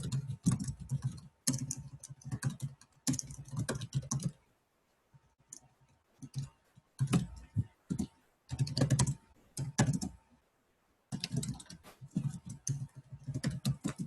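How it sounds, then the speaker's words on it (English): Bursts of computer keyboard typing, close and fairly quiet, arriving in irregular clusters separated by short pauses, with no talk over them. "My typing skills are usually a little bit better."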